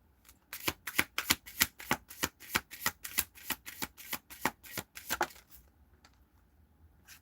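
Tarot cards being shuffled by hand, a rapid run of about twenty crisp riffling snaps in steady rhythm, close and clear with no talk, then tapering off into quiet.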